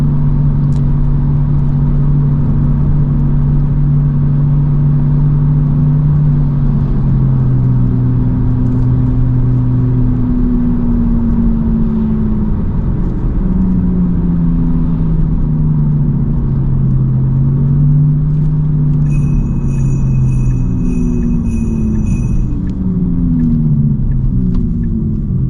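A Tesla Model 3 Performance drives through snow, its electric motor whining in rising and falling tones over a loud, constant road rumble heard from inside the cabin, with a brief electronic chime partway through.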